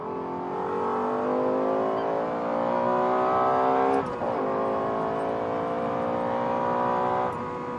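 Lexus LFA supercar exhaust heard from the cabin, a loud sustained engine wail climbing through the revs with a couple of sharp downshift blips breaking the tone, no voices.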